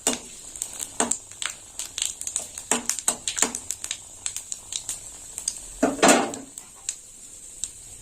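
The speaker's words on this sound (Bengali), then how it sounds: "ফোড়নটা একটু ভাজা হোক।" Whole panch phoron spices with dried red chillies crackle and pop in hot oil for a Bengali mourala fish poppyseed curry, with scattered sharp bursts and one louder flurry near the end.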